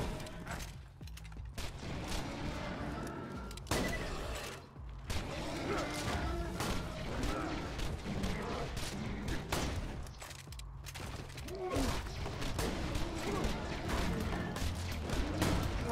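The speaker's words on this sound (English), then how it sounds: "Oh, you're shooting stuff." Gunfire from the video game Borderlands 2 in co-op play crackles in rapid bursts with mechanical clatter, loud and fairly dense, pausing briefly between volleys.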